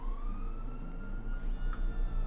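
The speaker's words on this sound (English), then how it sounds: "I hear the sirens." Police sirens wail in GTA 5 as a steady, rising tone that sits behind a low rumbling game backdrop, with brief sharper accents near the end; no one speaks over it.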